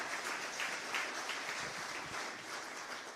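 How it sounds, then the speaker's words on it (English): A crowd at a public safety forum in Portland applauds coalition board members, a steady wash of many hands clapping at moderate distance, fairly soft and unbroken for a few seconds without voices. "Let's give you a round of applause because you put in so much work."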